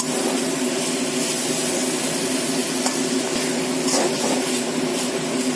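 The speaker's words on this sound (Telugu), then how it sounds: "సో దీన్ని కొంచెం మనం కొంచెం వేపేసుకొని మూత పెట్టుకొని ఇంకొంచెం కుక్ చేసుకుందామండి." Eggplant pieces fry in oil in a pan for fish curry, giving a steady, close sizzle with a few faint scrapes and no talking.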